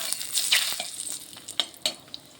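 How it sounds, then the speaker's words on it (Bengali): Dried red chillies and a bay leaf fry in hot oil for a tempering, giving light crackling sizzle with several sharp pops and spatters that rise and fade, heard close up. "শুকনো লঙ্কাটা একটু ভেজে নিচ্ছি এখানে একটা তেজপাতা দিয়ে দিলাম"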